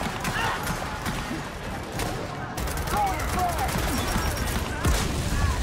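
Gunfire crackles in the shooter game Gears of War 4, rapid bursts of shots blending into a steady fusillade under a busy game soundscape, with fairly loud, dense action throughout.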